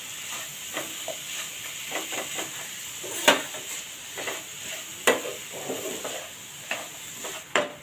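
Grated coconut and jaggery stir-roasted together in a pan over low to medium heat while making patoli, giving soft scraping strokes with scattered sharper clicks of the spoon against the pan over a faint background hiss.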